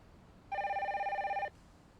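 A phone rings in the space-themed video game Stardrop: a single one-second electronic bell trill with a rapid warble, clean and prominent over a quiet background.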